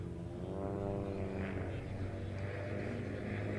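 Two airshow propeller airplanes at Joint Base Lewis-McChord fly overhead in a tight pair, their engines droning loudly as they climb into a loop, with the pitch sweeping and shifting as they pass.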